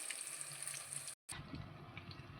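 Ground spice paste for guthuvankaya frying in a pan gives a close, steady crackling sizzle, briefly cut off by a short gap before resuming just as densely.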